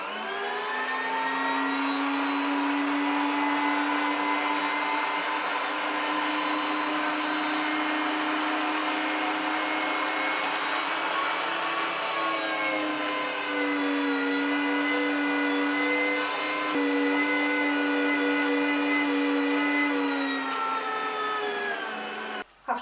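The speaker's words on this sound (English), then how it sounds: "This is a Bosch mincer, which does a very good job." A Bosch electric mincer grinds pork on its fine setting, a loud steady motor whine with a strong low hum running continuously for over twenty seconds, pitch dipping slightly midway under load, then cutting off at the end.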